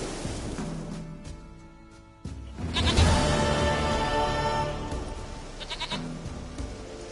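A goat in the video game Witcher 3 letting out a wavering bleat that swells up loud and then fades, with outdoor ambience and a soft surf-like wash behind it.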